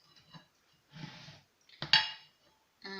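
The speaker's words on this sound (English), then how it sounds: "I'll just get my plate over here" A plate set down on a kitchen counter while chicken chow mein is being prepared, heard as a single sharp clink near the middle among quieter handling noises, with no talking.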